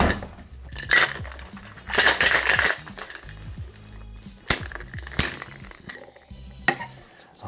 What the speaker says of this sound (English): Throw a little bit of ice in here. And we're going to shake this for a good 10 to 15 seconds.